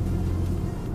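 Low, loud road rumble from the underbody fills the cabin of a 1999 Timor S515i 1.5 DOHC (Kia Sephia) while driving, a steady dense drone with no talk.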